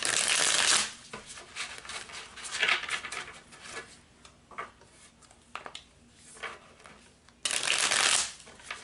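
Tarot cards riffle in two quick, crisp bursts at the start and end, with softer handling and shuffling noises between them, close by.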